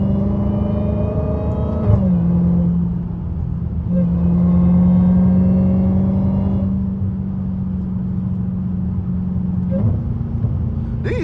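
A Dodge SRT Hellcat on the road gives a deep, close engine rumble that swells and eases as it drives, with gear-change dips around every few seconds and steady tire and road roar underneath.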